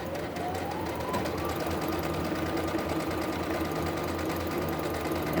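Sewing machine running a steady straight stitch along a 16.5 by 16.5 inch pocket pillow, a continuous rapid mechanical whir at close range that carries on unbroken throughout.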